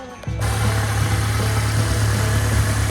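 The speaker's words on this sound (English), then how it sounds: "Last thing to do is to start the car." A Mk7 Volkswagen GTI engine with an upgraded turbo inlet elbow cranks and catches, then settles into a steady, loud, close idle hum that runs to the end.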